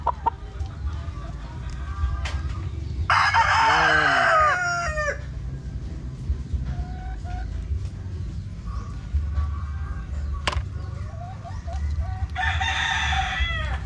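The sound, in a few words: chickens and rooster crowing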